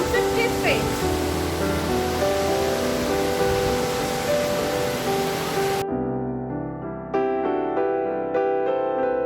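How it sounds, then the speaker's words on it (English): Gundichaghagi Waterfall, where the Musala River drops about 50 feet, roars as a steady broadband rush for several seconds before music takes over. "showing you the Gundichaghagi Waterfall. The Musala River is flowing down some 50 feet."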